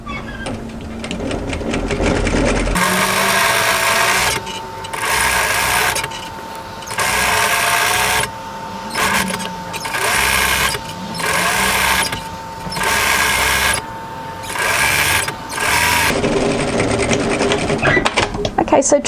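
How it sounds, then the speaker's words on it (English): Sewing machine stitching a second line parallel to the first along the folded edge of a tie-front dress, loud and close, running in repeated bursts with brief pauses between, faint background noise at the start and end. "I'm going to run a second line of stitching parallel to the first line of stitching on the fold side"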